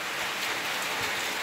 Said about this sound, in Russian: И дождь такой затяжной, я вам скажу.